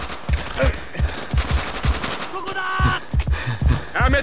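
A Japanese machine gun from Call of Duty: World at War rattles in rapid, loud, steady bursts. Shouted voices and other battle noise overlap the firing.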